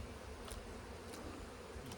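Honey bees buzz at an opened hive, a faint, continuous, even drone with no talking.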